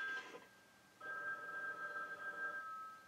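A telephone rings in the 1979 horror film The Brood, sounding as a short electronic trill and then a longer sustained ring at moderate loudness, with no talk over it.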